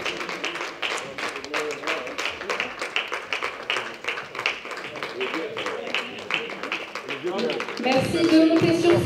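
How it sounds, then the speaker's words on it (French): An audience applauds the honorary doctors being honored at a Paris ceremony, with dense, rhythmic clapping running throughout and voices mixed in, growing louder near the end. "que s'élèvent nos applaudissements pour honorer ces docteurs d'exception"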